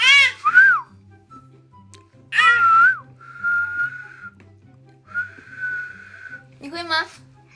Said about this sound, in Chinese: 你会吹口哨吗？